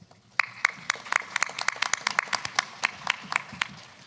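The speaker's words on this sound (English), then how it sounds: "So give yourself a round of applause" Applause from a small audience at a governor's small business summit in Denison, Texas: sparse, distinct hand claps in an uneven patter, fairly close, thinning out toward the end.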